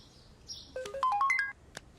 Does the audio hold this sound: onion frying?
no